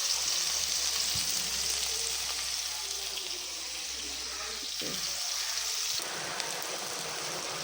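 Pieces of shark deep-frying in hot oil bubble and sizzle with a steady, close, rain-like crackle, with occasional clinks of a utensil partway through.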